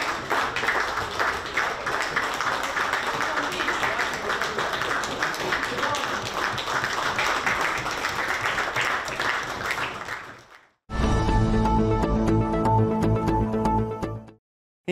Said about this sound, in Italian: I consiglieri si sono così alzati in piedi, battendo sul tavolo e facendo un lungo applauso.